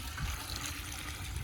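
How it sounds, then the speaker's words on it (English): Water mix sloshing and pouring from one bucket into another for feeding pumpkin plants, a close, continuous splashing gush with uneven low surges. "We're going to dump them back and forth."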